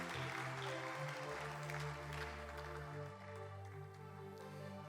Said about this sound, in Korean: 한번 박수로 격려해 주시면 좋겠습니다.